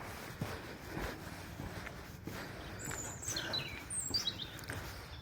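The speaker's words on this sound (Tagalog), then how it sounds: "Ang ganda ng huni ng mga ibon." Small birds chirp faintly in a few short bright calls by a lake in the Gavers domain, under a steady outdoor rumble of wind and distant movement.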